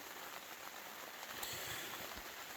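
Steady rain falls in Alaska, a dense even hiss of drops on surfaces with a few soft low thumps, close and continuous with no voices.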